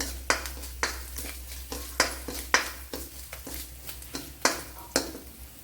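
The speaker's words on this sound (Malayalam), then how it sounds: "ചെറിയൊരു പീസ് ഇഞ്ചിയും കൂടെ ഇട്ട് കൊടുത്തിട്ടുണ്ട്. അതൊന്ന് മൂത്ത് വരണം." A small piece of ginger frying in a pan for sambar while a spoon stirs it in quick, rhythmic scrapes and knocks, about two a second, over a faint, low sizzle.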